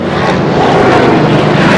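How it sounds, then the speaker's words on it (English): Loud, close engine roar with a rapid rotor chop, a steady mechanical din like an aircraft passing overhead. "Let's wait for this heli chopper to pass."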